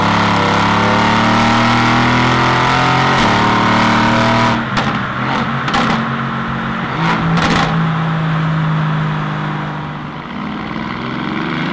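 A Mercedes-AMG GT S engine revving hard on a dyno, loud and close, holding a steady high-rpm roar, then a string of sharp throttle blips with crackles before settling to a lower drone.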